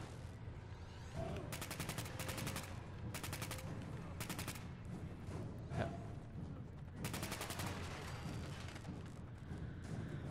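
Splatter cannon gunfire in Fallout 4's Nuka World, heard as repeated bursts of rapid shots in several volleys over a dense, busy game soundscape.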